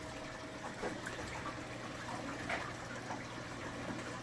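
Water drains down from lines through the floor into a saltwater coral reef aquarium sump, a steady faint trickle and gurgle with no voices.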